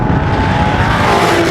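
A Mark 2 Audi TT 3.2 VR6 is driven, its engine a loud, steady drone heard from close by with a sustained tonal note rising slightly, over road and tire rumble.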